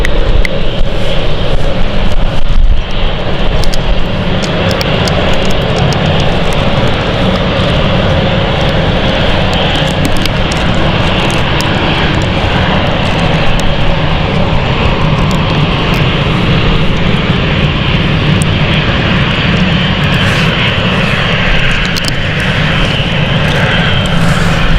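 Lufthansa airliner inbound from Frankfurt near London City Airport, a loud continuous engine roar that stays steady for the whole stretch with no voices over it.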